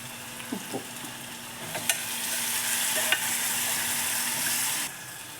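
Onions fry with turmeric and salt in a pan for a potato palya, a constant close sizzle broken by a few clicks and scrapes of stirring, then cutting off abruptly near the end.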